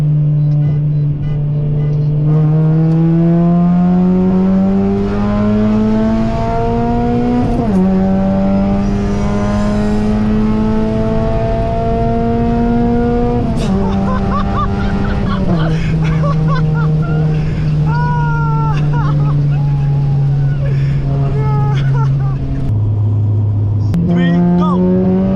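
A straight-piped Honda Type R races a Golf R, its loud, raspy engine holding close through long pulls that climb in pitch, with a few shift drops between them and people talking over the noise.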